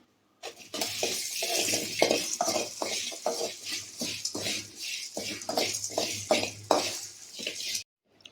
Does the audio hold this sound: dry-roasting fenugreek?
yes